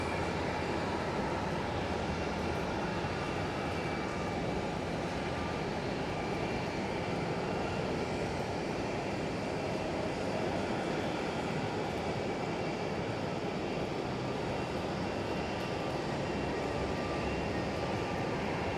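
An airliner in puffin livery at Sky Harbor airport gives a steady, distant jet engine roar that fills the whole stretch, with no voices, during a storm with rain starting to fall.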